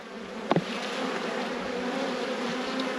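Honeybees buzz around an open hive during a late-season inspection, a steady, close drone of many wings with a short sharp knock near the start.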